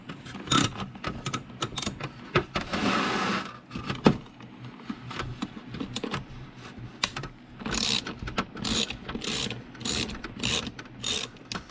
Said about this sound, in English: Undo these two screws right here.